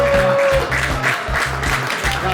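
Audience applause at a beauty pageant calendar presentation in Padova, dense continuous clapping mixed with loud thumping music and a steady beat, fairly loud and close.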